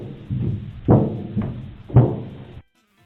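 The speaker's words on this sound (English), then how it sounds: "You're listening for these vent noises for these 2 animatronics." Animatronic crawling in the vents in Five Nights at Freddy's 2: a series of hollow metallic knocks and thuds, two of them louder, clanking close by, then abrupt silence.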